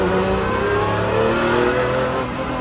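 A Pagani Zonda R engine roars and revs loudly nearby, its pitch rising and falling in a sustained, aggressive snarl.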